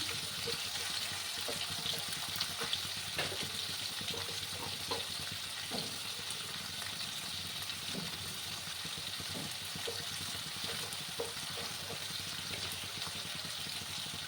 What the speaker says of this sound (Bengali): খুব একটা বেশি কড়া করে আমি ভাজবো না, কারণ তাহলে চিংড়ি মাছগুলো শক্ত হয়ে যায়।